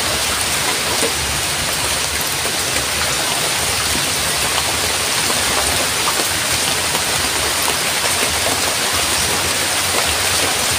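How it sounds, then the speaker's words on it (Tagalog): Heavy rain falls in a steady, dense hiss of drops pattering on surfaces, loud and continuous, with no voices. "Grabe, ulan na naman. Malakas."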